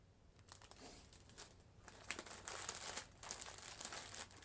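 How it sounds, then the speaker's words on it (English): Quiet, close crinkling of a plastic package as hands work at it, irregular rustling bursts that grow busier and sharper partway through, with no voices. "now I can't get the package open and I don't want to rip it"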